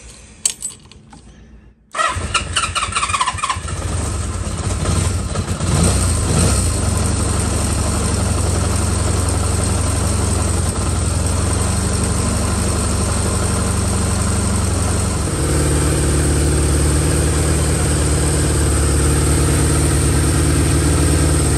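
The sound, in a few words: Honda CB550 motorcycle engine starting and idling to warm up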